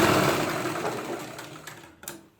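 A sewing machine runs a quick burst of stitches through trouser fabric, its rapid mechanical chatter loud at first and then slowing and fading, ending with a couple of small clicks.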